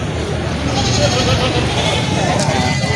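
A Boer goat bleats amid steady outdoor background noise and people talking nearby at a goat sale, its cries blending into the busy farmyard din.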